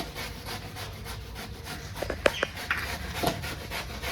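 Vegetables for cabbage kofta are rubbed against a kitchen grater in short, uneven scraping strokes, close and moderately loud over a soft background hum.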